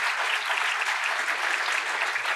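A crowd applauds in a dense, steady wash of clapping that stays loud and even throughout.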